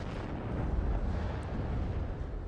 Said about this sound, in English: But yeah, artillery being used